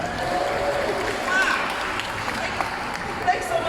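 Audience members clap at a Shedd Aquarium show in Chicago, a moderately loud, even spread of applause mixed with crowd murmur and voices.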